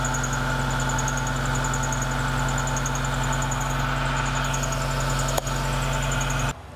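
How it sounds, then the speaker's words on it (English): A 2004 Suzuki Esteem VXi engine idles steadily with its new exhaust, a continuous close-up mechanical hum with a faint high whine, broken by one brief click near the end before the sound drops off. "just put the car in neutral and start the engine."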